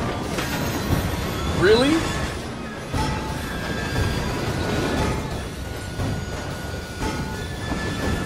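Train rolling past in Assassin's Creed Syndicate, a continuous rumbling clatter with a brief wheel squeal early on, while someone talks briefly over it.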